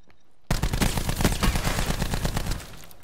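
Rapid automatic gunfire from a video game, a dense burst of loud shots lasting about two seconds after a quiet start, then fading out.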